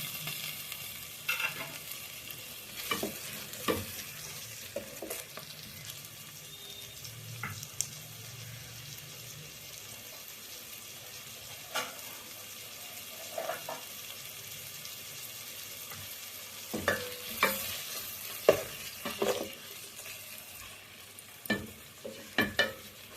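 Tomato sautéing in a pan for Kumbakonam kadappa, with a steady low sizzle broken by repeated sharp scraping and stirring knocks that cluster more densely near the end; no one speaks.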